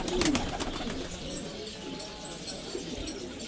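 Fancy pigeons coo softly nearby, a short throaty call standing out over a quiet background bustle, with no talking.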